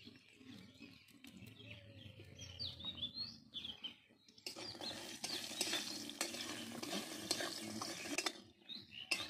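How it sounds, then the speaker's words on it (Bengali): Lentil dumplings (bori) frying in mustard oil, starting with the clink and scrape of stirring, then a louder, steady hiss of frying that carries on, with faint bird chirps in the background. "ভেজে নিয়েছি বড়িগুলো, তুলে নেব।"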